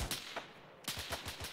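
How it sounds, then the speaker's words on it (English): Incoming gunfire in the military video game ArmA 3, with a burst of sharp rapid shots and a short gap, then a fast rhythmic string of about six cracks, fairly close and loud. "I'm seeing rounds from west northwest."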